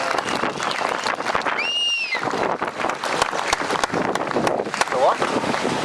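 Outdoor crowd at a water protest march clapping together, dense broadband applause with wind buffeting the microphone, a brief whistle or cheer in the middle, voices and crowd noise mixed in throughout.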